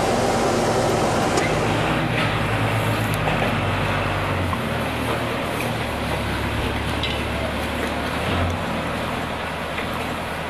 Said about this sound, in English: The tractor unloader makes it a lot easier, mate.